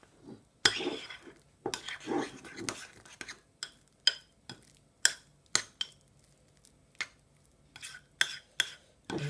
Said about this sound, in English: Mix well so everything can combine well.